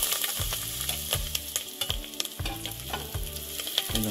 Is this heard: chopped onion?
yes